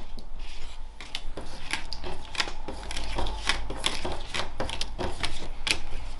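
Playing cards being shuffled by hand at a table, a rapid run of crisp riffling clicks and flutters in quick bursts, close and continuous with no talking.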